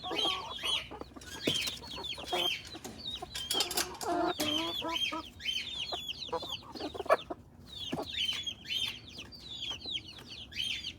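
Chickens and young chicks eating scattered feed, with busy overlapping clucks and high peeping calls close by, plus pecking and scratching throughout.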